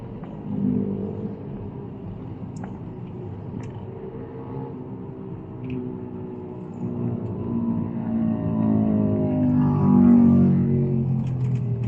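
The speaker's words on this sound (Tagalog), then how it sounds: "Daming motor." Heavy road traffic on the way to Tagaytay, with many motorcycles around, heard from inside a vehicle as a continuous low engine rumble that swells with passing and revving motors.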